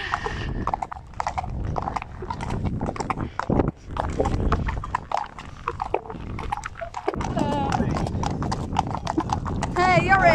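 Friesian horse hooves clip-clop steadily on a beach, close and continuous, with occasional whinnies and people talking over the hoofbeats.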